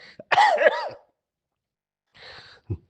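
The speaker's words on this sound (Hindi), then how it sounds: "2 दिन से बहुत खांसी हो रही है" A harsh, throaty cough close by, then a softer breathy rasp and a short second cough.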